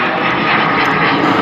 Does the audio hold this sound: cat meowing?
no